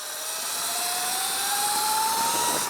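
An ERT BAC4K electric motorbike with a KO F-Spec motor runs at wide-open throttle on a top speed run, giving a steady whine that rises slowly in pitch over a constant rush of wind noise.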